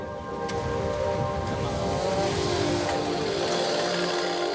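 Steady rain falls after a storm at a monkey park, a broad, continuous wash of drizzle and patter that stays even and fairly close throughout, with no voices.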